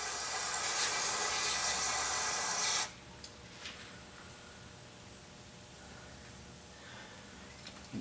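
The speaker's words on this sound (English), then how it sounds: "Keep spraying it in there." A loud, steady aerosol spray of cleaner hisses close by into the throttle body of a 2003 Cadillac CTS for about three seconds, then cuts off abruptly, leaving quiet room noise with a couple of faint clicks.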